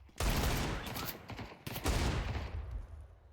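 Two bursts of rapid gunfire in Counter-Strike 2, each a quick rattling volley, separated by a short pause and fading into a dull echo.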